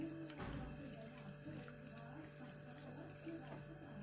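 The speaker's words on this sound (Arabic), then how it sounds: "غنخوي هذا الماء على السكر" Water is poured steadily onto sugar in a container while making homemade honey, giving a continuous close trickle under a faint hum.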